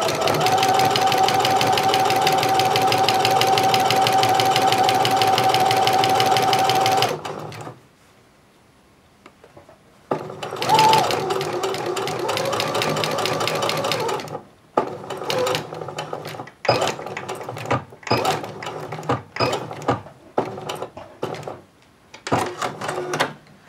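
A sewing machine stitching fabric for a pair of shorts runs in a steady, loud whirr for several seconds, then stops, followed by short bursts of sewing separated by pauses.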